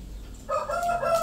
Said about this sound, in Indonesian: Ini bebek ya? Bebek, ayam.